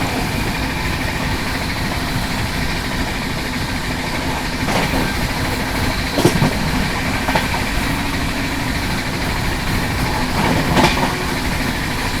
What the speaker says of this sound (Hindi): अभी सामने से ये आ रही है रांची नई दिल्ली राजधानी एक्सप्रेस।